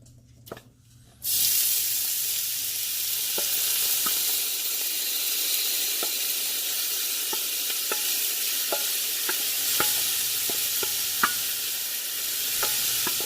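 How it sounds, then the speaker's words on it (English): Peppers and onions hit a hot chili pot and sizzle steadily, a loud broad hiss that starts abruptly and holds, with occasional small pops and scraping stirs close by and no talking. "Now we're going to add the peppers and the onions."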